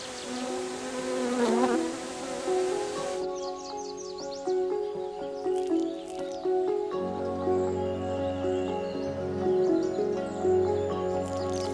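Honeybee buzzing among orchids on Mount Wuyi, a steady close insect drone with shifting pitch, starting loud and continuing softer under a light background.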